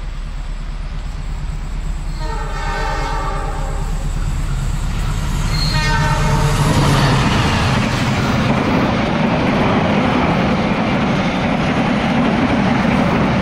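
A train runs along railway tracks near Pantai Celong in Batang, with horn-like tones early on, then a loud, close, steady rumble of wheels and cars passing, with no talking.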